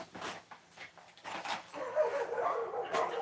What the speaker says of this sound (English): All right, dogs are back.